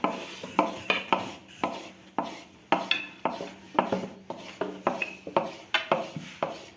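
A knife chops through rolled-out dough for manti on a wooden board in a village kitchen, giving a steady run of sharp, close tapping cuts at a brisk, slightly uneven rhythm with no talk.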